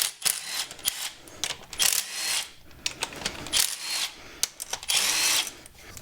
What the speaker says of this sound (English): So last thing you do is take out all these bolts.